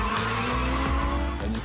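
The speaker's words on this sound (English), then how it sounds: "you can hear an old school Lamborghini V12 rumbling behind me" An old-school Lamborghini V12 engine rumbles loudly and steadily nearby, a deep, continuous roar with shifting pitch that fills the whole moment and has no talk over it.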